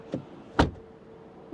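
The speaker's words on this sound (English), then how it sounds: "Door closing sound, first the front. It's quite solid. Then to the rear." A rear door of a Škoda Octavia Combi RS slams shut once with a solid, close thump, preceded by a softer latch click, then quiet.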